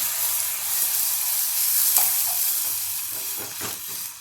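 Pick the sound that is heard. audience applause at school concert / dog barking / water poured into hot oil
water poured into hot oil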